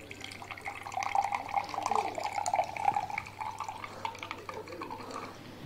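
Blended vegetable juice poured into a glass gives a soft, continuous liquid trickle of several seconds, faint and close, over a low background hum.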